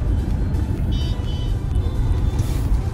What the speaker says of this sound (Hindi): तो फ्रेंड्स आप देख सकते हैं कितना ट्रैफिक है यहाँ पे